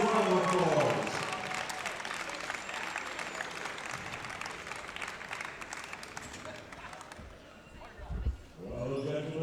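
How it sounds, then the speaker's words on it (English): Sustained audience applause fills the hall for the new junior 83 kg champion at the 2019 World Classic Powerlifting Championships, a dense steady clapping that briefly overlaps a voice at the start and fades before talk resumes at the end. "Give him a massive round of applause."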